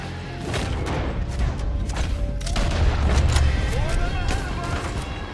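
Carbine Repeater rifle fire in a video game: repeated sharp cracks and booms in an ongoing firefight, loud, with heavy low rumble and other clatter beneath.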